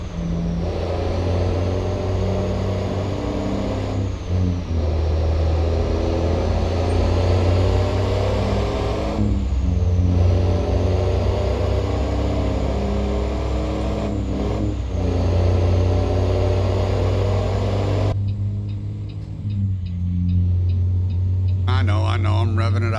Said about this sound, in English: I'm revving it out a little bit, but I like the sound.